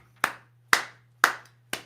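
Four sharp, evenly spaced claps ring out about half a second apart, close and crisp with a short decay, with no talk over them.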